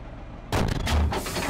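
A tank main gun fires once, a sudden loud, close blast that cuts off quiet and rolls on as a heavy, sustained boom with no voices.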